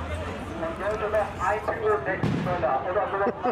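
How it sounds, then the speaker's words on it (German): Firecrackers go off during a football fan march, sharp bangs cutting through the crowd noise as people talk nearby. "Die nächsten Böller."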